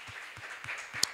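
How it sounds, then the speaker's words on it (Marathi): A church congregation claps together in a steady rhythm during a Sunday worship service, with four or five even, moderately faint hand claps in quick succession. "मोठ्याने टाळ्या वाजूया"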